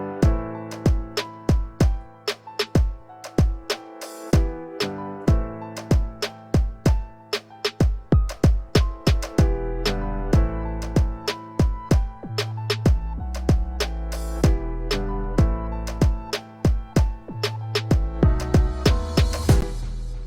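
Instrumental beat with piano, bass and hi-hats: steady punchy kicks, booming bass and tight ticking hats under repeating piano chords, loud and even throughout with no voices.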